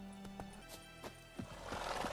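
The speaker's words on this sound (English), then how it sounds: "Hold on, whose horse is this?" Horse whinnying with hoof clip-clops in The Witcher 3 video game; a neigh rises early, then several hoofbeats and stamps land at intervals, growing busier and louder toward the end, with no talk.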